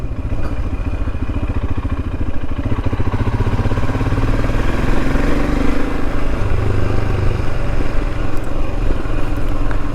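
A Royal Enfield Himalayan motorcycle rides down Cornish country lanes, its single-cylinder engine thumping steadily and loudly throughout with heavy wind rumble, rising slightly in intensity partway through.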